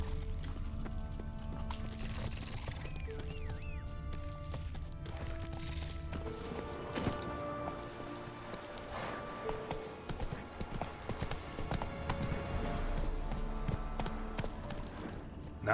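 Roach, a horse in The Witcher 3 game, clip-clops along in a steady rhythmic gallop of hoofbeats throughout, accompanied by soft background music tones.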